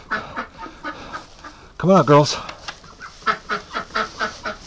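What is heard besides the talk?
ducks quacking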